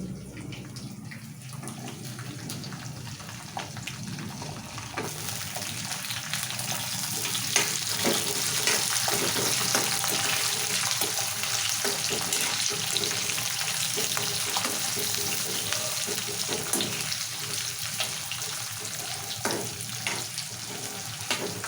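Ginger and garlic frying in a pan for tomato green chilli chutney, a steady close sizzle with occasional stirring scrapes, continuous and fairly loud throughout with no talking.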